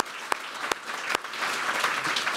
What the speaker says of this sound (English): Just one more round of applause for their fantastic efforts.